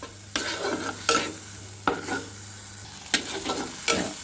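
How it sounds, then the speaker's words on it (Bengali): Spice paste with coconut and cashew milk fries in a pan while a spoon stirs it in several scraping strokes over a gentle, steady sizzle. "এটা হচ্ছে নারকেল আর কাজু মিল্ক করে নিয়েছি, দিয়ে আমি কষিয়ে নিচ্ছি মশলাটা।"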